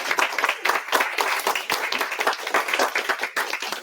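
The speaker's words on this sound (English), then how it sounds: "let's give Linda a nice round of applause." Audience applause for an author at a bookstore event, a lively patter of individual claps from a modest group, irregular and fairly close, lasting the whole stretch.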